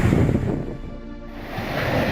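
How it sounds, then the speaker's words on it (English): Tsunami waves rush ashore on Tongatapu, Tonga's main island, after a volcanic eruption, a broad roaring wash of surging water with wind buffeting, loud at the start, dipping briefly, then swelling again. "It took only minutes for the waves to arrive."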